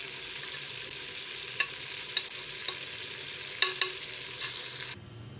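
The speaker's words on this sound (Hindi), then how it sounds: "टमाटरों के साथ इसको अच्छी तरह से भूनेंगे" Onions and tomatoes fry with spices in a pan for a meat and drumstick curry, a steady close sizzle broken by a few soft stirring clicks, then cutting off abruptly near the end.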